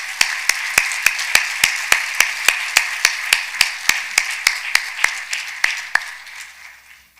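Clapping at an award ceremony for excellence in global trade, heard as a steady, evenly spaced series of about twenty sharp claps, close and fairly loud, with no talk, fading slightly toward the end.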